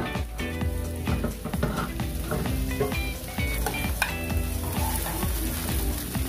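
Beef sizzling steadily in a hot pan for Filipino beef mechado, with metal utensil scrapes and clatters as the meat is stirred and flipped, close and continuous.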